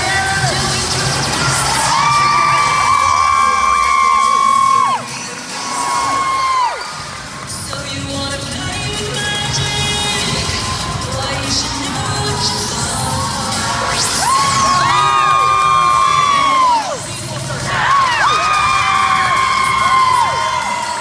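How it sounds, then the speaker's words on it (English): Lee High School cheer team shouting, whooping and cheering together, with rising and falling group yells in bursts across a long stretch, loud and lively over a steady crowd background. "This week we feature the Lee High School cheer team."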